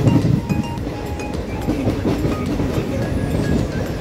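A train rolling along rails gives a steady, loud, close rumble with faint rhythmic clatter throughout and no voices.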